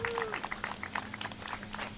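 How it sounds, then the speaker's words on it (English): A crowd at an outdoor Martin Luther King Day rally in New Orleans claps, scattered distinct hand claps over a low steady hum, with a brief voice or whistle at the start and mixed crowd sound throughout. "Let's give Mike another round of applause."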